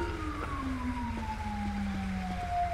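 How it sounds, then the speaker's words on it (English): An ambulance siren in the LSPDFR police game wails in a steady, slowly falling tone for the whole stretch, with a low engine rumble underneath and no talking. "Guarantee the ambulance having a hard time going in."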